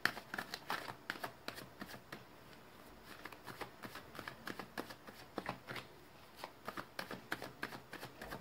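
Tarot cards are shuffled and drawn by hand in a quiet room, a steady run of soft riffling slaps and flicks repeating closely for several seconds, with no talking.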